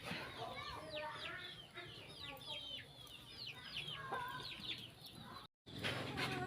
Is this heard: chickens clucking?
yes